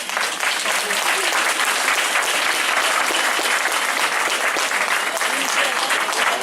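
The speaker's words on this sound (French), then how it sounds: "Je propose qu'on les applaudisse." Audience applause at a hospital management's New Year greetings event in Corbeil-Essonnes, a dense steady wash of many hands clapping that fills the whole stretch at even loudness.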